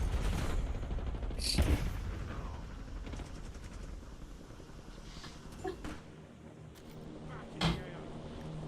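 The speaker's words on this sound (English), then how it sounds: "Taking fire." Gunfire in an online shooter game, scattered sharp shots and short bursts at a distance under ongoing background noise, with players talking over it.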